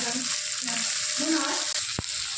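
Onion and tomato stirred in hot oil give off a dense, steady sizzle heard up close, with faint stirring and a single sharp click toward the end.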